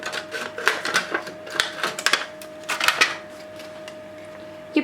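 Scissors snip through shiny and matte black plastic bin bag material in a series of quick, irregular crisp cuts and rustles, fairly close, with a faint steady tone behind and no talking.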